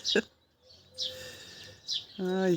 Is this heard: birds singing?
yes